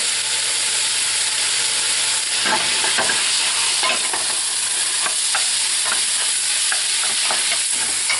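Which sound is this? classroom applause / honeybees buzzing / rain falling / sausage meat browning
sausage meat browning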